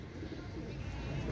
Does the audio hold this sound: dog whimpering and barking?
no